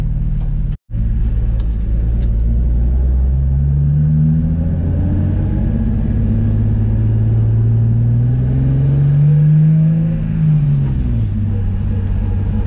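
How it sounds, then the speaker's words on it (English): A Nissan 350Z sports car driven around the block, its engine a loud, steady close rumble from inside the cabin, rising and falling as it accelerates and shifts. "I'm just taking it for a spin, make sure everything's cool, nothing else is broken"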